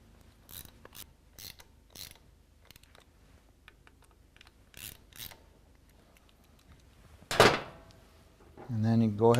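Ratchet clicking in short bursts as throttle body fasteners are tightened on a stock 2010 Harley Davidson FLTRX, faint separate clicks spread out, followed by louder clatters near the end.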